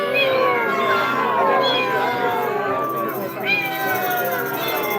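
A cat meows and caterwauls repeatedly close by in a series of rising and falling wavering cries, with a human voice also imitating meows and some background babble.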